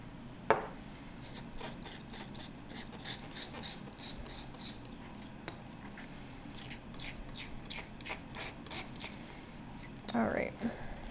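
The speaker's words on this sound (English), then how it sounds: "You can kind of hear the grit to it, so I need to mix it some more." Gritty black underglaze for enamel is mixed with a tool, making a rapid series of faint, rasping scrapes in short bursts, close and quiet, with brief speech sounds at the start and end.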